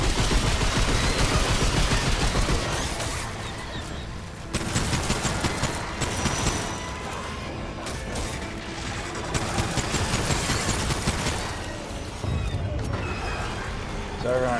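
An artillery piece fires in the video game Remnant 2, with dense rapid bursts of loud gunfire-like blasts rolling almost without pause, briefly dropping off before resuming.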